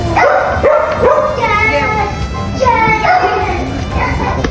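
A small dog barks and yips in short bursts close by at a birthday surprise party, mixed with people talking and a busy room's background noise.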